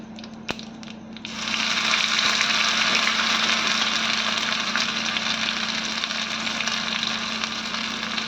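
Ground green chili and ginger paste tipped into hot oil with cumin, mustard seeds and curry leaves for a tempering, bursting into a loud, steady sizzle after a quieter start, with a constant low hum underneath.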